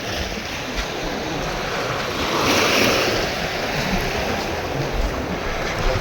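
Surf washes in steadily at a beach, a continuous broad roar of breaking waves with slight swells in loudness, mixed with wind buffeting the microphone and no voices.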